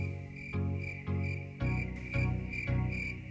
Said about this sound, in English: everything's coming up crickets